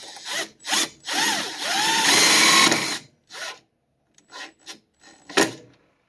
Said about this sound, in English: I'm just going to send her all the way with a self-tapper